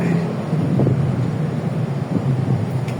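Strong typhoon wind gusts buffet the microphone with a steady low rumble and rushing noise throughout.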